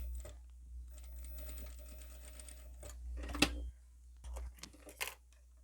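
A sewing machine stitches in quiet, rapid bursts with short pauses between runs, joined by a few sharp clicks and handling noises close by.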